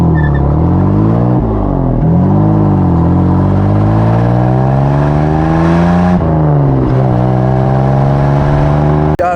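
A 1958 Jaguar XK 150 drop head coupé with a 3.8-litre engine, revved and accelerating close by, its pitch climbing and falling across several throttle blips before a sudden cutoff at the end.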